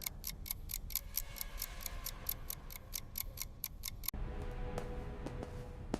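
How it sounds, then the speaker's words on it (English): A vintage pocket watch ticks loudly and close in a steady, even rhythm, with the sharp clicks changing character partway through. "Suddenly, the vintage pocket watch made a loud ticking sound."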